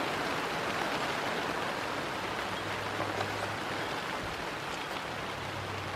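Steady rain falls outdoors on a roadside in Georgia, a broad even hiss of drops that holds at the same level throughout, with a faint low hum underneath and no talking.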